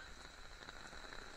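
Rain pours onto a flooded Mumbai street, a steady, dense hiss of drops hitting water that continues evenly throughout, close and unbroken, with no voices.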